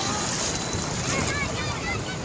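Sea waves wash and rush continuously near a village beach, a steady broad roar mixed with wind buffeting the microphone.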